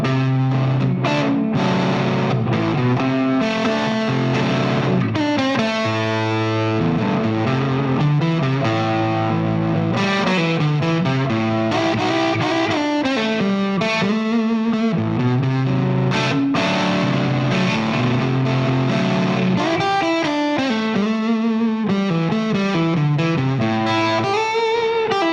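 Distorted electric guitar in open tuning played without a slide, continuous riffing with bent, droning chord figures and a gritty, effected tone, alone with no talking.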